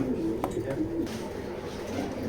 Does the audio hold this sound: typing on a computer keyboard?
no